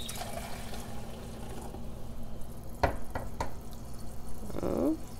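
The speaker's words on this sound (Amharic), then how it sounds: "እማበስልበት የተወሰነ ውሃ ቀንሳለሁ" Water is poured off from a cooking pot while making Ethiopian wheat genfo, a faint, steady liquid wash with a brief clunk midway and a splashy trickle near the end.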